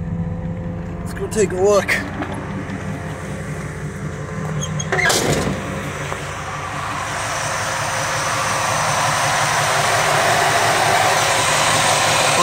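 A budget SBC 383 stroker V8 engine cranks, fires up and settles into a steady, building idle rumble, close and loud, with someone speaking briefly at the start.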